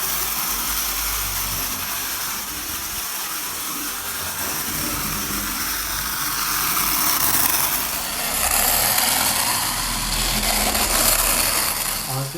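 A Jouef Class 29 model locomotive's small electric motor runs steadily, producing a loud, continuous whirring hiss that swells slightly in the second half.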